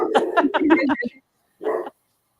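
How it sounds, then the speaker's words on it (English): A quick burst of yapping dog barks, several in fast succession, then a single bark after a short pause, close and fairly loud. "he's still barking."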